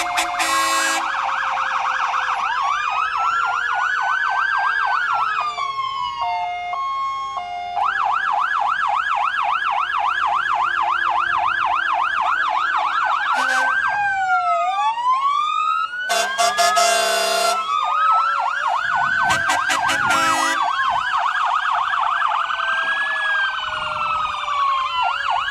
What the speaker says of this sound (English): This is the Montrose Township Fire Department. And it's very loud, Owen.